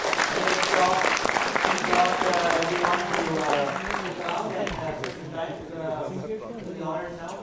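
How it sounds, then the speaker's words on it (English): A crowd at a PLF2015 corporate intrapreneurship panel session claps for the panel members, dense sustained applause with a few voices and cheers mixed in, gradually thinning toward the end. "round of applause, guys, for our panel members"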